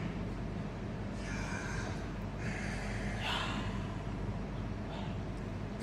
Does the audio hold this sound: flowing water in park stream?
no